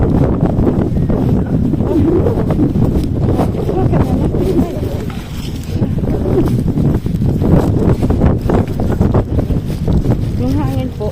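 Strong, cold wind buffets the microphone steadily outdoors in northern France, with people talking throughout under the constant roar.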